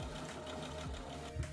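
A beginner's home sewing machine runs steadily at a low, even drone, stitching at short stitch lengths, alone, with no voices.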